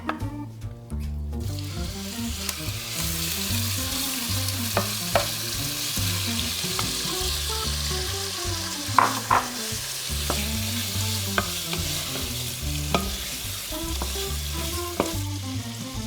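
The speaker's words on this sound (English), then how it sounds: "Once the meat is browned all over," Chunks of goulash meat browning in hot vegetable oil in a pan, a steady loud sizzle and fry with occasional sharp pops and stirring clatters, no talking.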